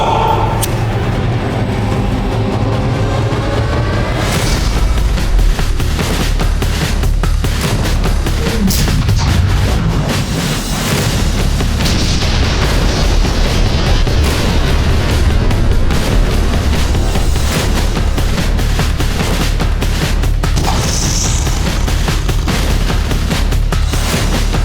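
A mini cannon fires a friction-primed charge of 15 pounds of black powder: loud booming blasts within a dense, sustained rumble, with a deep low roar running throughout and no clear speech.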